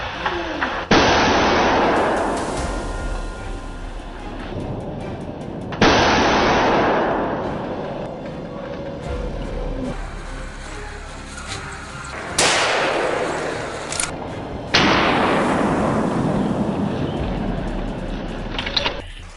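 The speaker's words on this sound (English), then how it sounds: "Gunfire erupted from all directions." Rifle gunfire on a wild boar hunt in dense, snowy forest, with several loud sharp shots at irregular intervals, each followed by a long echoing decay.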